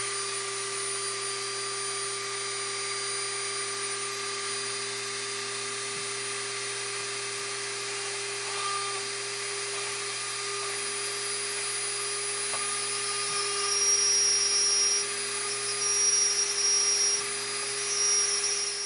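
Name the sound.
drilling hanging holes in handmade Christmas ornament parts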